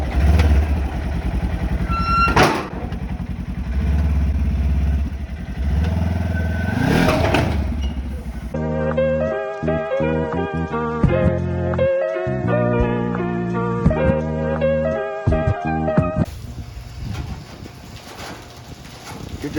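A motorcycle engine is revved hard with the throttle, loud and close, climbing through stuttering bursts of rising and falling pitch after an opening stretch of idle and background noise, with voices briefly audible.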